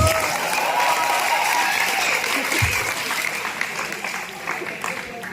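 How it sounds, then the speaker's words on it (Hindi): A student crowd at a stand-up comedy show at NIT Rourkela bursts into loud applause that fills the room, then slowly thins out toward the end, with some cheering and voices mixed into the clapping. "केंद्र विद्यालय की गरीब ऑडियंस के लिए जोरदार तालियां गाइस।"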